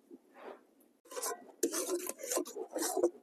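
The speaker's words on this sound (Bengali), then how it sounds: "বন্ধুরা, এইভাবে কিন্তু ক্রমাগত নাড়াচাড়া করতে হবে, নাহলে নিচে লেগে যাবে।" Palm laddu mixture stirred in a pan over low heat, a utensil scraping and rasping against the pan in irregular bursts, a faint stroke first, then steady, close scraping.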